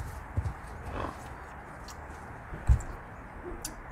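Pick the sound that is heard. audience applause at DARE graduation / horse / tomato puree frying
horse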